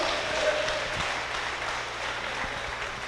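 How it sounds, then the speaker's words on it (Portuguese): Applause from a church congregation fills the space steadily and evenly, a dense wash of many hands clapping at moderate distance with no clear voices over it. "Aplauda Jesus agora."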